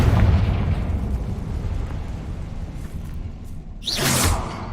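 Confringo spell blast in the video game Hogwarts Legacy, a loud booming burst fading into rumbling debris, followed by a brief sharp whoosh near the end.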